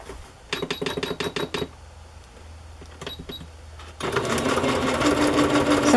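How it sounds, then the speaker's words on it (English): A Singer Patchwork sewing machine runs in short bursts of rapid needle clatter with pauses between them, then settles into a longer, louder continuous run. "It's a Singer Patchwork sewing machine."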